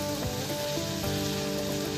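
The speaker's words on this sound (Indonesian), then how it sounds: "Kita tumis, kita goreng sama semua bahan tadi" Galangal shoots stir-fried with shrimp paste and crab in a pan, a steady bubbling sizzle with soft crackles throughout, no voices.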